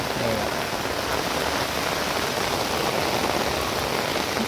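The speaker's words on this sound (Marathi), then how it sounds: "पाऊस पण जोरात आला आहे" Heavy rain pouring down in a dense, constant hiss, close and loud with no letup and no voices.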